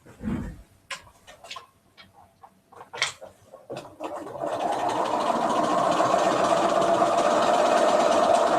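A sewing machine stitches a small hem on a purple doll dress, starting with a few scattered clicks and handling sounds before settling into a steady, close, continuous whirring run that holds to the end.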